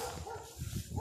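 A pack of dogs barking in short, overlapping bursts close by, steady and fairly loud for about a second.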